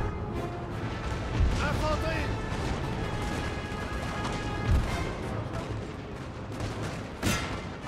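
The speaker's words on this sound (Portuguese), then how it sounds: "O canhão tá dando certo aqui." Cannon artillery barrage in the Napoleon: Total War video game, with repeated heavy booms and crashing impacts over a dense battlefield din, several shots spaced a few seconds apart.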